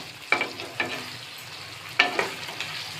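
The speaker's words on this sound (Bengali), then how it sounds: "আলু ডিম মশলার সাথে মিশিয়ে কিছুক্ষণ কষিয়ে নিব।" Fried potatoes and eggs are stirred in a spice masala for an egg biryani, a low sizzle punctuated by a few distinct spatula scrapes and clinks against the pot.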